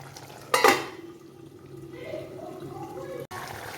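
A lid is set on a pot of simmering curry with one sharp metallic clank, followed by a quieter low rattle and bubbling in a kitchen.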